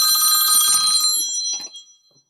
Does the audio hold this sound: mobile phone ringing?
yes